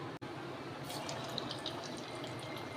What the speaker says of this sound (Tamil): இப்போ இதை எண்ணெயில் ஃப்ரை பண்ணி எடுத்துக்கலாம்